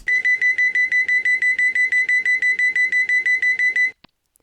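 The dead man switch alarm in a train simulator game gives a loud, rapid electronic beeping, about four pulses per second, in a steady repeating buzz for four seconds before it cuts off abruptly.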